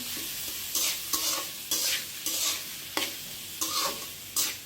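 Onions frying in a pan for a Bengali hilsa fish bhuna (do-peyaza), a steady sizzle broken by repeated loud scraping stir strokes at a regular pace, close and without talk.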